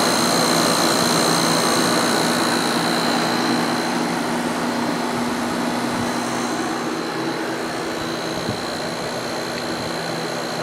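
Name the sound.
Sharp window air conditioner compressor running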